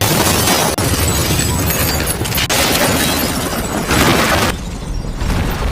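Car explosion from a film scene: a dense, loud, sustained roar of blast and shattering debris filling the whole stretch, with a sharp crack near the start and a brief drop in the noise near the end.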